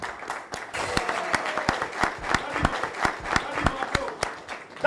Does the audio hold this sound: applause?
yes